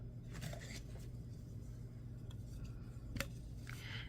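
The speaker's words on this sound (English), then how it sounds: "let's get the 6 inches of this wire cut" Beading wire being snipped for earrings, a few short crisp cuts close by over a quiet background, with one sharper snip toward the end.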